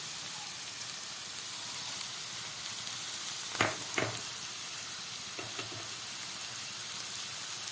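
Mixed vegetables fry in a pan for restaurant-style fried rice, giving a soft steady sizzle throughout, with a few brief louder scrapes of stirring near the middle and toward the end.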